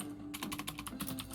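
Names are typed on a computer keyboard in a quick run of crisp key clicks, close and clear, after a brief quiet moment.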